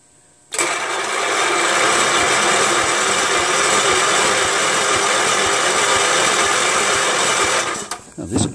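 Kohler K-301 12 HP engine on a vintage Homelite Textron G-3600 watt generator cranking, a loud, steady, continuous mechanical churn that starts abruptly and runs for about seven seconds before cutting off.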